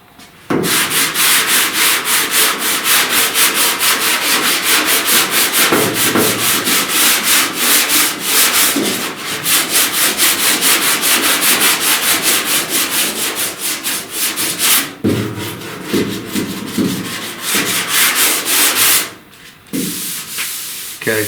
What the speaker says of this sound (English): This end out here I will block a little bit with a long block. I actually put the 80 grit on it.